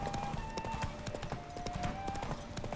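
Horse hooves clip-clopping at a gallop in The Witcher 3: Wild Hunt, a steady rhythmic pounding under game music and ambience, with faint whinny-like tones and no talking.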